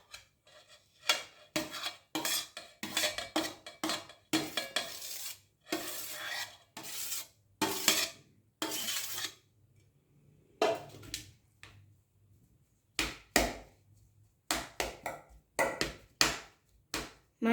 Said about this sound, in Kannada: ಪೊಟ್ಯಾಟೋಸ್ನ ಮ್ಯಾಶ್ ಮಾಡ್ಕೊಳ್ಬೇಕು